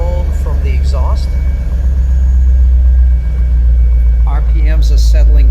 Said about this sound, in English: It is a clean cold start. Nice tone from the exhaust.